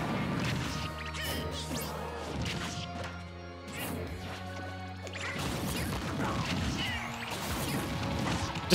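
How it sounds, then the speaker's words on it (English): Repeated down smash attacks by Pichu in Super Smash Bros Ultimate: a run of crashing, thwacking hits and electric swooshes over steady game music, loud and continuous. "Just keep down smashing, Pichu!"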